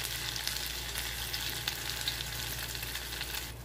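Spiced fish fries in oil in a pan over a gas stove at medium-low flame, a close, steady crackling sizzle with faint bubbling that continues without talk.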